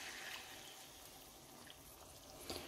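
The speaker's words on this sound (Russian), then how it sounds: "Заливаю их сметаной," Sour cream diluted with water pours steadily into a pan over fried rolls, a continuous soft watery rush with faint splashing throughout, close by and moderately quiet.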